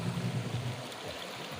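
River water flows steadily in a broad, continuous wash with a low rumble near the start, during a family new-year picnic in Arunachal Pradesh.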